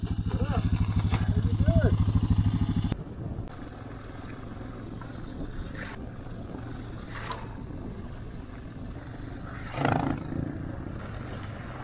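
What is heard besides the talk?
group of motorcycles riding past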